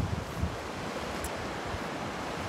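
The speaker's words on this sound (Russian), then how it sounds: "Тут есть речка такая вот." A small mountain river in the autumn Swiss Alps near Sustenpass rushes in a broad, steady wash of water noise, with a few low wind buffets against the microphone.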